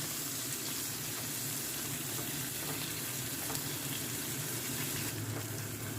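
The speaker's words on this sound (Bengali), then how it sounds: "শিমগুলোকে এবার ভাজবো" Green beans frying in a pan with garlic give a steady, quiet sizzle that holds evenly throughout with no talking.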